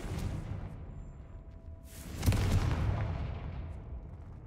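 Confringo blasting curse in Hogwarts Legacy: a sudden rushing whoosh breaks into a booming explosion with a long rumbling decay, loud and close over a low ambient drone.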